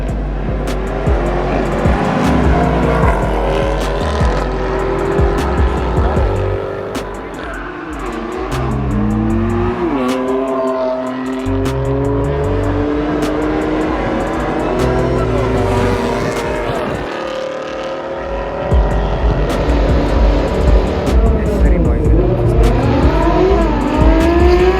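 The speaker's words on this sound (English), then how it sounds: "Alongside this amazing drifting scene that was happening, the supercar class had also started." Supercar-class race cars at an Indian drag racing event, engines revving hard and loud in rising, sweeping pitches, tires squealing and cars roaring past in close succession, with a brief dip before a final loud surge.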